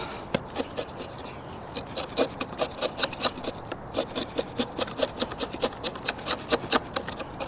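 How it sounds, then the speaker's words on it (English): A chisel scrapes and pares across a wooden sawhorse in steady, rapid rhythmic strokes, close and moderately loud, with no talking. "So I'm just going to use my chisel."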